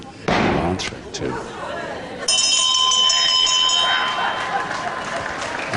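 A wrestling ring bell struck by the timekeeper at a televised bout rings out loud and sustained, its bright tone hanging over a noisy arena crowd and a commentator's voice.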